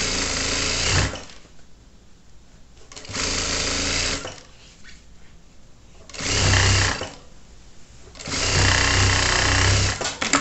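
Sewing machine stitching the waterproof lining of a child's backpack, running in several bursts of steady whirring separated by pauses, close and loud with no talk.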